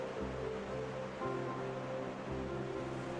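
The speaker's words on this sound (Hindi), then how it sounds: "वैसे तो साल भर यहाँ से पानी इसी रफ्तार से गिरता है" Parasdoh waterfall on the Tapti river near Betul, Madhya Pradesh, gives a steady hissing rush of falling water, constant and moderately distant, under a low droning hum that shifts in pitch, with no talk.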